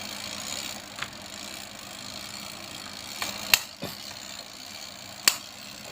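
Electric box fan motor running at low volume: a steady faint hum under broadband noise, with a few sharp clicks and taps scattered through.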